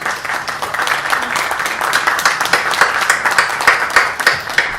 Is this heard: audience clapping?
yes